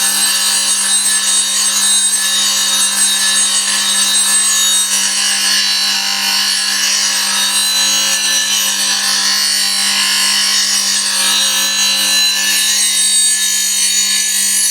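A woodturning gouge with an asymmetric grind is sharpened on a grinder, a loud unbroken grinding hiss with a steady motor hum underneath throughout.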